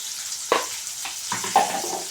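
Cabbage fries in a pan with a steady sizzle, broken by a few stirring scrapes and knocks of a utensil, heard close with no talking.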